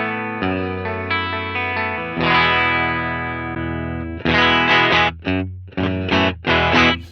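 Electric guitar through a modeled Silver Lux Custom amp, strummed chords ringing out, then choppy staccato stabs, bright, close and loud.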